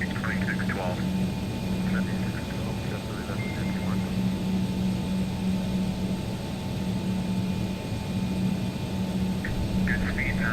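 An Embraer Legacy 650 business jet rolls for takeoff in the X-Plane 12 flight simulator, with a steady engine roar and hum running the whole time and radio-style talk breaking in now and then.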